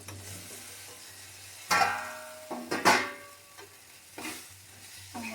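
Fenugreek powder being stirred in a pan for a rambutan pickle, with a faint sizzle under several sharp scraping strokes of a spoon against the pan, spaced irregularly and close by.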